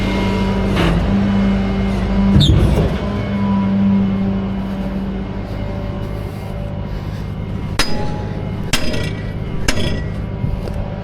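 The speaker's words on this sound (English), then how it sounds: "Hate hammering these" Sharp metal hammer blows ring out during a tow truck job, a close strike near the start followed by three spaced hits later, over a steady low engine rumble.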